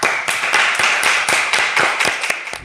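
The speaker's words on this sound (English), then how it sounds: "shall we welcome our last founder to stage? Round of applause." An audience applauds a startup founder walking on stage, loud close clapping with distinct regular individual claps carrying through a dense, steady round.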